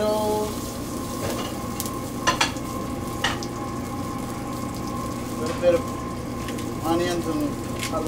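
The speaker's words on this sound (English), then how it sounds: "I'm gonna get that sauteed up a little bit, guys." Homemade machacado sautéing in oil in a restaurant kitchen, a steady low sizzle and stir running throughout with a few brief clinks and scrapes over a constant background hum; speech is present.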